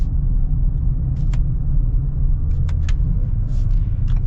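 A 2022 Ford Explorer Timberline with a 10-speed transmission accelerates in sport manual mode, heard from inside as a loud, steady low engine and road rumble with a few faint clicks.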